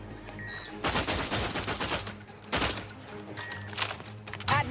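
Rapid automatic gunfire from a weapon in The Outer Worlds 2 on the third planet, loud sustained bursts in two main volleys with brief pauses between, close and dominant with game sound effects around.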